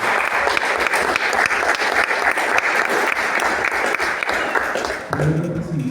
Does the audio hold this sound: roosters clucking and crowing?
no